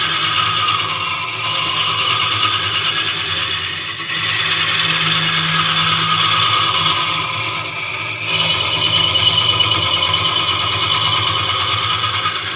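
A hollowing tool cuts into a wooden goblet spinning on a lathe, making a close, continuous whirring scrape that shifts in tone in a few stages as the cut changes.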